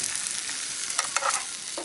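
Steak frying in a pan at an outdoor camping meet, a steady close hiss of sizzling fat with a few brief louder crackles and spits, no voices.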